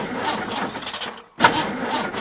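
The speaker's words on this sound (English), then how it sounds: "Elephant's car won't start." A cartoon car fails to start, giving repeated whirring, sputtering cranks that cut out briefly and then resume, close and fairly loud.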